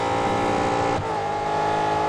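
Race car engine from the Holden Commodore VF in the video game Real Racing 3, a loud steady roar with a slight dip and a shift in pitch partway as the car overtakes.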